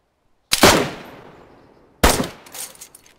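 Two sharp, loud gunshot blasts about a second and a half apart, each followed by a decaying rumble and echo, with a few smaller cracks after the second, in the video game DayZ Standalone.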